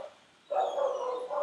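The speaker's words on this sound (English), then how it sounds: "You hear the dogs barking." Dogs barking somewhere out of view, heard as a sustained yelping, whining bark that starts after a quiet moment and continues at moderate distance.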